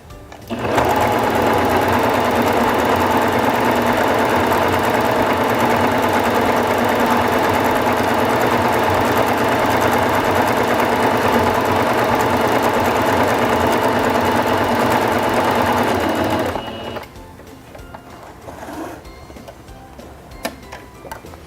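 A Singer Fashion Mate 5560 sewing machine stitches a vine pattern at a longer stitch length, running loud and steady with a fast mechanical tick for about sixteen seconds before stopping abruptly, leaving faint handling noises.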